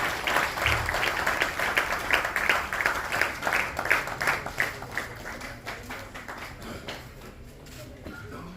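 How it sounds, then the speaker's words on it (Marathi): Audience applause at a publication release ceremony, many people clapping in a rhythmic pattern that gradually fades toward the end, with some speech audible beneath. "सर्वांनी टाळ्या वाजवून हे प्रकाशन जे आहे"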